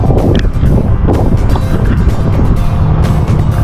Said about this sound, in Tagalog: lumalakas na po yung agos